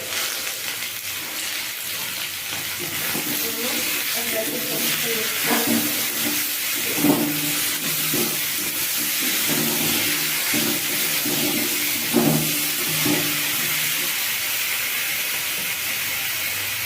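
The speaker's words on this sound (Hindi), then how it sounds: "आलू टमाटर को हम मीडियम से लो फ्लेम पर ढककर कम 4 से 5 मिनट तक पकाएंगे और भुना भी जाएंगे" Potatoes and tomatoes seasoned with salt and turmeric cook covered in a pan over a medium-low flame, giving a steady soft hiss of steam and simmering. A low murmur of talk drifts in and out underneath.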